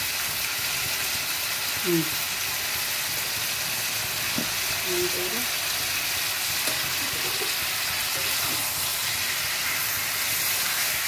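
Meat fries in a pan under a steady broad sizzle while a metal spatula scrapes and knocks a few times, the stirring noises sitting under the continuous hiss.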